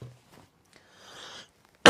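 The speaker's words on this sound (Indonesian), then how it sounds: "saya jadi ikut batuk-batuk ini" A single sharp cough bursts out loud and close at the very end, after a stretch of faint, quiet room sound.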